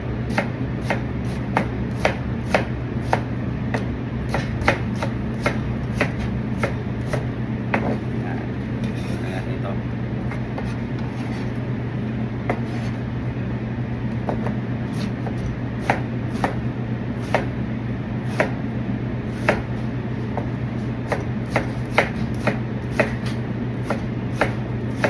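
A knife chops onions on a board with steady, sharp taps repeating at an even pace over a constant low background hum, with talking heard at times.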